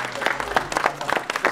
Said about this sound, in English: So one big round of applause to finish off.